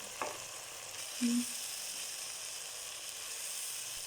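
Whole garam masala, turmeric and salt frying in a pan for matar keema, a soft steady sizzle with a faint clink near the start and a brief tone midway.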